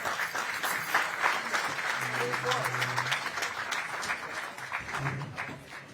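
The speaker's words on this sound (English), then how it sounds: "let's give her a round of applause as well." A ceremonial audience at a New York governor's bill-signing event for veterans' benefits claps steadily for about six seconds, with voices murmuring beneath the dense applause.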